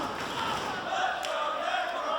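Wrestling crowd cheering for Necro Butcher during a brutal brawl, a continuous roar of shouting fans with a sharp thud partway through, voices blending into the din.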